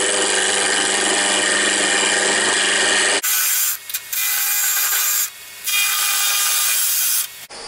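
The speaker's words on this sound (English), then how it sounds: "I'm going to start with a quarter-inch parting tool. And it's about 800 RPM somewhere in there." A quarter-inch parting tool cuts into wood spinning on a lathe at about 800 RPM while turning a snowman, a loud, continuous close-up scraping hiss that shifts in tone and briefly drops out as the tool lifts.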